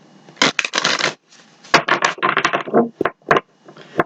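Tarot cards shuffled by hand, a run of quick papery riffles and slaps in short bursts with brief pauses between them, close and fairly loud with no voices.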